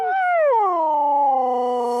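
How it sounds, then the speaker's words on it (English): A Siberian husky lets out a single long howl, starting high and sliding down into a sustained, steady tone, loud and close with no other sounds around it. "A husky's howl can be heard up to 10 miles away."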